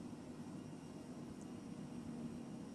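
Phenom 100 jet engines hum at a steady, faint drone in Microsoft Flight Simulator 2020 as the throttle is eased back in cruise flight, with no voices.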